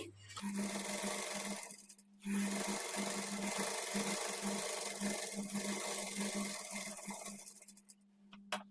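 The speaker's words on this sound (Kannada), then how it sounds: "ಈ ಬಾರ್ಡರ್ ಮೇಲೆ ಎಡ್ಜಿಗೆ ಒಂದು ಸ್ಟಿಚ್ ಮಾಡ್ಕೊಳ್ಳಿ" A sewing machine stitches the edge of a border on a pleated sleeve, running in a steady close whir with a brief pause near the start, then humming on before slowing to a stop.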